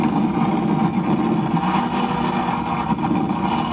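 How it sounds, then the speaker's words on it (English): A Toyota Supra driving past on a crowded highway, a loud steady engine drone with broadband road and wind noise, continuous throughout with no talk. "It's another Supra"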